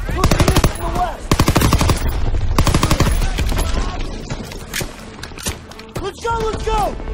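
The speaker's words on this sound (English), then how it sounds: "Enemy shooting!" Heavy enemy gunfire in Call of Duty WWII, with loud machine gun bursts and rapid rifle shots in rolling volleys, mixed with shouted voices and battle noise that fade to sporadic shots.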